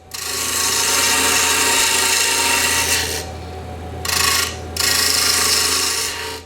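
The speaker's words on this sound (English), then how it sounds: "bowl gouge here to do that. Running it from the top edge to the bottom and putting a slight taper" A bowl gouge cuts a slight rounded taper along the outside of a wooden lidded box on the lathe. Loud, steady scraping and shaving runs in long passes, broken by two short pauses.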